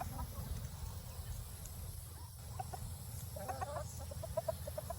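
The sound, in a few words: chickens clucking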